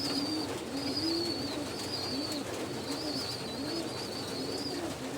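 Pigeons feeding their chicks coo in repeated soft rising-and-falling phrases, a steady run of calls at moderate distance over low background noise, with faint higher chirps.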